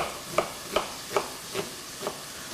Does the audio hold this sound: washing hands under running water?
no